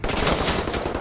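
Enemy gunfire in the video game Wolfenstein: The New Order, a loud, dense burst of rapid automatic shots filling a brief moment, no talk.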